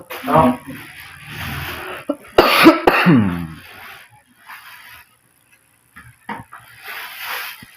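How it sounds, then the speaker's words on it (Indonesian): A man with a long-standing illness gives one or two harsh coughs and clears his throat in a quiet room. Scattered speech and faint rustles fill the rest, with stretches of near-silence in between. "ini kan batuk."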